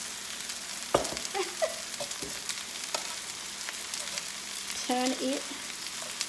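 Red and yellow bell peppers fry in a pan for beef fajitas, giving a soft, continuous sizzle broken by stirring clatter, with a brief spoken remark.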